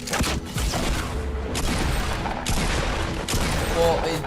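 Double pump shotgun fire in the Fortnite video game, season zero: four or five sharp, loud blasts come in quick succession amid game noise, with a voice talking faintly.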